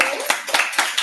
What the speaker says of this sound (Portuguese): Palmas para a mãe, né?